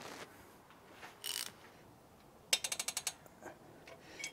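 A ratchet fitted with a universal joint tightens the manifold nuts on a Rover Metro, giving a quick burst of about seven sharp clicks after a couple of brief scrapes, close and otherwise quiet.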